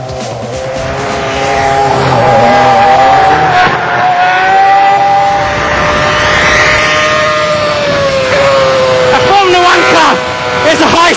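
A Williams Toyota FW29 Formula One car's engine roars loud and close throughout, its pitch climbing and falling with gear changes as someone talks over it.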